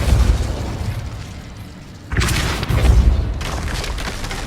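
A spell blast in Hogwarts Legacy, a loud booming burst that hits sharply and rumbles on, followed by a second swell of impact noise.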